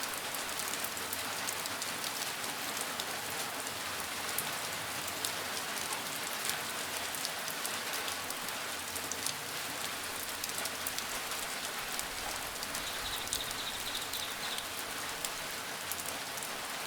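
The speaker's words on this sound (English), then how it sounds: "Think of how the rain falls tonight." Gentle rain falls steadily, a dense, even patter of drops close by with no pauses, soft and continuous throughout without any voices.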